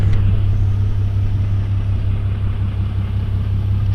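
A Cummins diesel truck on a test drive gives a steady, loud low rumble from inside the cab. The droning engine tone stays even throughout and no one speaks.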